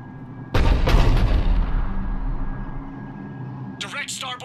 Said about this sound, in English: Initiating bombardment.